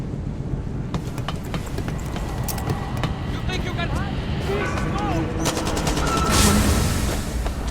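Gunfire in Far Cry 6 during a building escape: repeated sharp shots and bursts crackle through a dense, noisy battle mix, growing busier toward the end while voices talk over the action.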